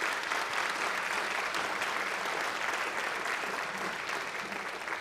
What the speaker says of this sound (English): So can give a round of applause to our Office of Curriculum Instruction.